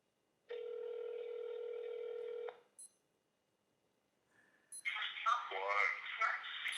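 A telephone call rings as one steady electronic tone lasting about two seconds, loud and clear, then goes quiet before voices start talking.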